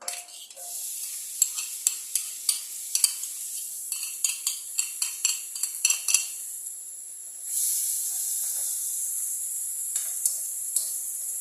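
Onion in hot oil in a frying pan, crisp sputtering and a string of sharp metallic taps and scrapes of a spoon against the pan for several seconds, then a broad steady sizzle hissing on alone.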